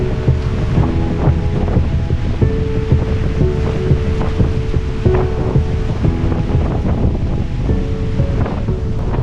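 At a marina near Alicante, a sudden gust of wind brings heavy rain, heard as continuous loud buffeting wind noise against the microphone with a dense rushing wash throughout.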